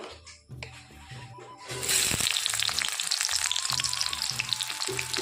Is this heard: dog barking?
no